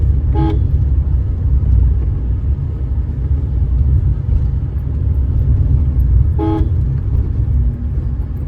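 A car horn gives two short toots about six seconds apart during a driving practice run in Mavelikkara, clear over the steady low rumble of the moving car's engine and road noise.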